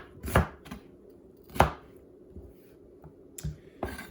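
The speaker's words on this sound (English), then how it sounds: "slice up this onion" A knife slices through an onion on a cutting board in a handful of sharp, separate chops spaced unevenly, close and fairly quiet with pauses between cuts.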